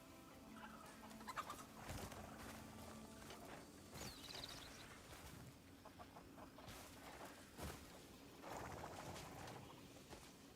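A coot in the video game Crimson Desert calls repeatedly in short clucking, cooing bursts against steady outdoor game ambience, moderately near, with no talking.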